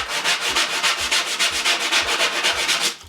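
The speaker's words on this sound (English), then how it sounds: "get some coarse, aggressive sandpaper, like an 80 grit or 100 grit" Coarse 80 or 100 grit sandpaper is rubbed over the corner of a climbing-wall panel in brisk, regular back-and-forth strokes, loud, close and alone.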